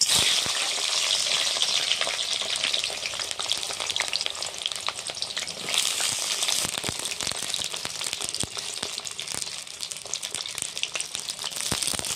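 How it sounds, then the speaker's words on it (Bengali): Brinjal fries in hot oil in a wok, giving a loud, continuous sizzle dense with sharp crackles and pops that runs steadily throughout, with no talk. "তেলে দিয়ে বেগুনটা খুব ভালো করে ভেজে নেব বেগুনটা দিয়ে দিচ্ছি কড়ার মধ্যে"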